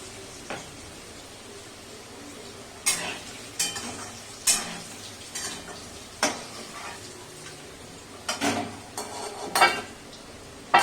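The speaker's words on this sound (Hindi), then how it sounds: "आलू मेरा फ्राई हो चुका है, अब मैं इसको उठा लेती हूँ।" Potatoes frying in oil in a home kitchen pan, a soft steady sizzle broken by sharp clinks and scrapes of a spoon stirring against the metal at irregular intervals.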